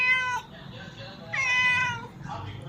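A domestic cat meowing three times, the middle call longest and clearest, close and fairly soft against a quiet room hum.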